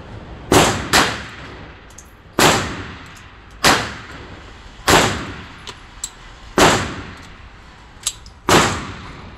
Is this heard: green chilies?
no